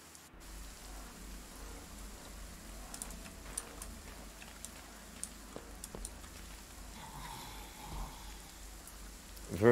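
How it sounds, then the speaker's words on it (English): Steady, moderate rain patters in the video game Nightmare Reaper, a continuous hiss with scattered drop ticks and no talk over it. "extremely localized rain"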